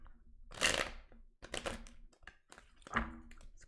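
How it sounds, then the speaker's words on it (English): Tarot cards are shuffled in the hands in three short, crisp riffles and ruffles separated by pauses, close and fairly quiet. "These cards don't want to shuffle."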